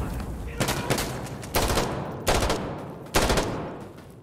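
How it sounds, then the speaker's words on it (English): Gunfire in the video game Insurgency Sandstorm, four loud, close bursts of rapid automatic fire, each trailing into a reverberant tail. "Playing Insurgency Sandstorm,"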